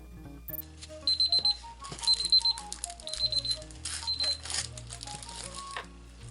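A timer set for four minutes goes off with clusters of short, high electronic beeps. The bursts repeat several times, close by, over soft clattering in a workspace where a vanity tray is being made.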